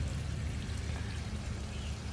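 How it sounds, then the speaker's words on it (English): Water from the pump of a self-watering balcony garden hisses and pours steadily and close, as a continuous trickling stream with no pauses and no voices. "Now that I've turned the water pump on, you can see where it waters."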